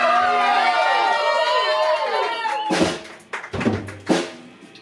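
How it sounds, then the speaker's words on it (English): An audience at a live band show at Howl's Castle claps and cheers after a song, with voices and shouts rising over the crowd as the noise fades in bursts. "Round of applause for Louis"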